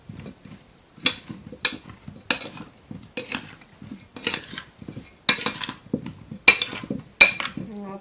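A spoon clinks and scrapes against a pan while oil and seasonings are stirred, giving a series of sharp, irregular metallic taps close up, with quiet pauses between strokes.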